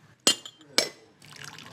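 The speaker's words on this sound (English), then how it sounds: "you always got to pour back the first cup" Moroccan mint tea with fresh mint and sage is poured into a glass: two sharp clinks of the glass are followed by a steady splashing pour, close by.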